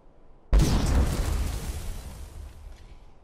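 Incinerate fire spell cast in a video game, a single sudden loud fiery blast that bursts out and then rumbles and fades away over a few seconds, heard alone.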